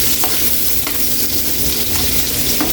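Red onions sizzle loudly as they are sautéed in a pan for Filipino pork steak, a close, constant frying hiss with a few soft scrapes of stirring and no talking.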